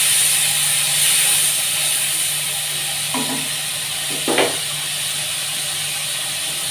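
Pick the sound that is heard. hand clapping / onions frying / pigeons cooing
onions frying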